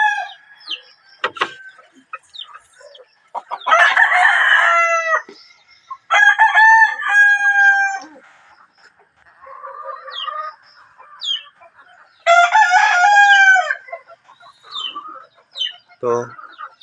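Black Spartan chickens crow loudly several times at close range, their long harmonic calls mixed with scattered clucks, a few sharp knocks and a brief voice.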